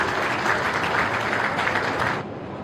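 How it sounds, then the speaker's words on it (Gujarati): A hall audience claps together for a community figure at a religious gathering honoring a saint, a dense, steady wash of many hands close by that thins slightly near the end. "જયંતિભાઈ માટે જોરદાર તાળી"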